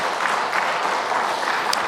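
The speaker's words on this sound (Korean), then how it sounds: "박수 한번 부탁드립니다" A congregation applauds during a Sunday morning church service, the clapping forming a continuous dense patter at a steady, moderately loud level with no voices over it.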